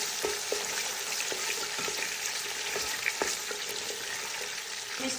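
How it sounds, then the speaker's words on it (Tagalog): Chicken being mixed with tomato paste in a hot pan, a continuous sizzling hiss with occasional soft spoon scrapes and taps, close and even. "Mix ko yung chicken sa tomato paste."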